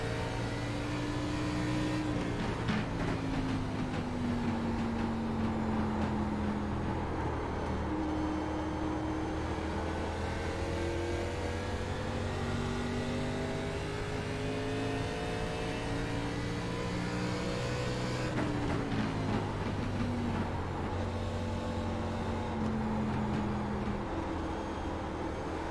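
NASCAR-style race car engines drone loudly and continuously in the iRacing game, ARCA Series cars at the Milwaukee Mile, with rising and falling pitch sweeps as the cars shift through the laps.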